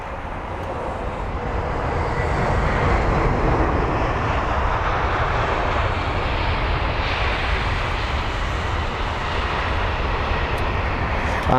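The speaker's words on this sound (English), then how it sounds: "it is going to be the British Airways A320 Neo with the reg Golf Tango Tango November Tango" A British Airways Airbus A320neo airliner arrives to land at London Heathrow, its engines a loud, steady roar that swells and holds for several seconds as it passes close by.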